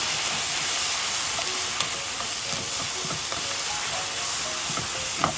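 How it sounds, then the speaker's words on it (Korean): Japchae stir-fries over high heat with soy sauce, a loud steady sizzle and hiss from the hot pan, with scattered scraping and clatter as the noodles are tossed. No voices are heard. "진간장 한 큰술, 2큰술 정도 넣으시고 센 불에 볶습니다"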